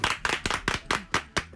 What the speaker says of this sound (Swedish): Det blir applåder också för detta.